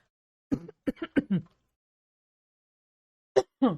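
A quick burst of short throat-clearing coughs, followed by silence and then two more brief coughs, close and dry.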